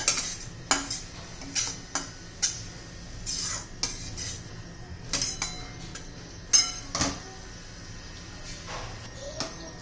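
Semolina dry-roasting in a pan over medium-low heat while a spoon stirs it, heard as a dozen or so light, irregular scrapes and clinks against the metal over a quiet background.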